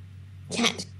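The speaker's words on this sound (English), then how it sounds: "Cat." A cat's meow in the Minecraft video game, a single short call of under half a second that stands out clearly over a steady low background hum.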